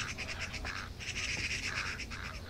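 Birds chirping in the Thief video game, a repeated high twittering pattern, moderately faint and steady under a low ambient background.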